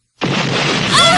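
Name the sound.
explosion sound effect in an animated series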